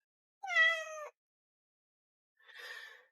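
A cat gives a clear, harmonic meow, followed after a short pause by a second, breathier and rougher call, both close and alone against silence.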